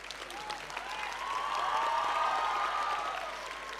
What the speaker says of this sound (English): He deserves a big round of applause from everyone.